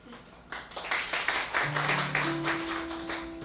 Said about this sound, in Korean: 박수 쳐주시면 되겠습니다.